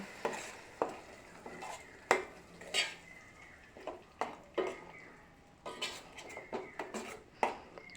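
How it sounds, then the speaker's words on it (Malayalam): A spoon scrapes and clinks against a pan in quick, uneven strokes stirring passion fruit pickle, fairly quiet and close, with a faint sizzle underneath. "നന്നായിട്ടൊന്ന് ഇളക്കി കൊടുക്കുക"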